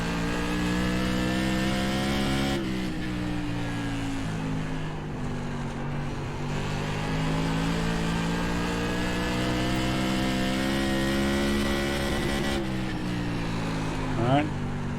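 Race car engines in a racing simulation run at or near full throttle, a steady loud harmonic drone that holds across the stretch with slight pitch shifts, as someone speaks throughout.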